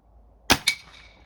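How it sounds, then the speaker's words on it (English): A single sharp report from a .22 long rifle fires at a pan, closely followed by a second crack, likely the bullet striking the metal, then a short ringing decay. "let's take one shot at that pan"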